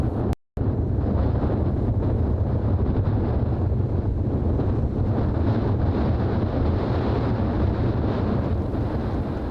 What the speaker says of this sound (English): Hayling Beach in the middle of winter. It's spectacular, but very windy.